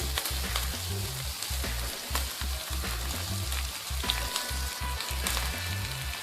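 Cauliflower for dry-style Kerala gobi manchurian sizzles steadily in a hot pan, a dense, continuous crackle of frying with occasional stirring scrapes and pops, close and unbroken, with no voices.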